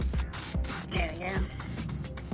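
Weld-through coating hisses from a spray can onto a car firewall during a Datsun 510 restoration, in several short close bursts separated by brief pauses.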